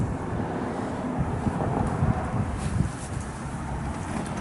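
Steady wind buffets the microphone outdoors, a constant low roar with slight gusts and no voices.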